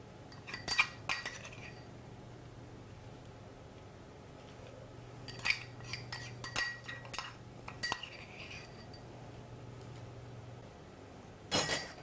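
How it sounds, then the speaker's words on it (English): A metal spoon clinks against a dish while an herb and oil mixture is spooned over vegetables for a paleo roast chicken. A few scattered, sharp clinks come in small clusters over a low steady hum, with no talking. "So now I'll just spoon that mixture over the top,"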